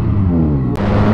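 A Yamaha MT-09 motorcycle engine on a test ride gives a steady, loud, droning growl rich in low harmonics, with one momentary cut near the end.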